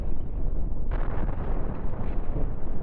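Attack ships exploding in fiery combat in the space game Cosmoteer, heard as a dense, continuous roar of rumbling blasts and crackling bursts, loud and steady throughout with no speech.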